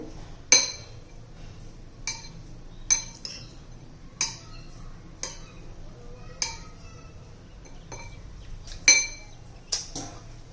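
Spoon clinking against a bowl while mixing chopped onion relish seasoned with lemon: a dozen or so sharp, irregular metallic taps spread over a quiet kitchen background, no talk.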